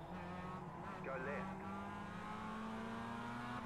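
Mazda MX-5 race cars at the Tsukuba circuit in the iRacing sim launch from the start, their engines a steady, loud droning roar throughout while someone talks over it.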